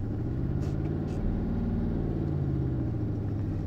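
A Citroen GSA with an air-cooled boxer engine pulls away, its low engine drone rising steadily in pitch, heard from inside the car.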